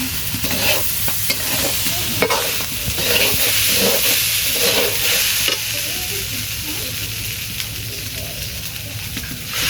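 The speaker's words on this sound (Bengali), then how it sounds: "চাল হচ্ছে ভাজা ভাজা হয়ে গেছে" Rice frying in a hot pan, a steady loud sizzle and hiss with repeated scraping stir strokes throughout, close up and without talk.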